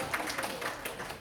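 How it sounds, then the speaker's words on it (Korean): An audience at a teacher training session breaks into a brief burst of applause, a dense, moderately loud patter of many hands lasting about a second. "박수!"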